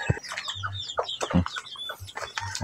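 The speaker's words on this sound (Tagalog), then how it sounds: "Ito yung mga manok natin." Chickens kept in a pen with their chicks make close, busy clucking and chirping in short bursts, with a few low thumps underneath and no speech.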